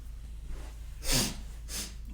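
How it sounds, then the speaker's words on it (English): Two sharp nasal sniffs, the first louder and longer, the second quicker, close to the microphone against a quiet background hum. "Pardon my sniffing."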